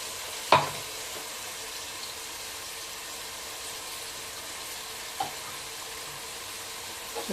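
A handful each of mint and coriander sizzling in a pan sound as a soft, continuous fry, broken by a sharp utensil knock early on and a lighter scrape later, with no talking.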